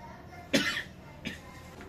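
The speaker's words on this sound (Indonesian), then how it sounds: "Sampai batuk guys" A single sharp cough rings out near the mic, followed a moment later by a smaller, softer cough, with quiet room noise in between.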